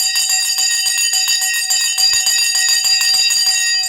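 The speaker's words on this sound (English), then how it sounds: "The bell has gone." A stock market opening bell rings steadily and loudly, a sustained metallic tone with rapid repeated strikes filling the whole stretch, with no talking.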